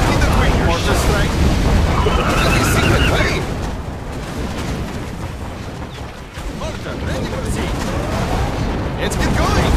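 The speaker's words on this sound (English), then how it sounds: "Mortar strike." Mortar fire in Command and Conquer Generals Zero Hour, a dense barrage of booms and blasts rolling under busy battle noise, loud and sustained, easing briefly midway before building again.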